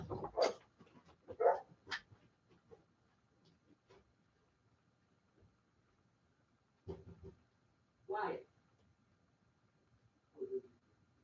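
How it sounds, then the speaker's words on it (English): A dog barks in short bursts in the background of a sports podcast, a few scattered barks and yips separated by quiet gaps. "If you're hearing the dog bark in the background, I apologize."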